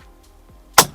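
A single sharp snap of a small ashtray lid closing in a Lada 2102 car, sudden and close, after a near-silent moment.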